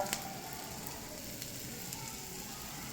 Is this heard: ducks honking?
no